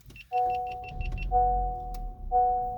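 11th-generation Honda Civic Sport started with its push button: a series of quick chime beeps, then steady two-tone warning chimes repeating while the engine rumbles softly underneath.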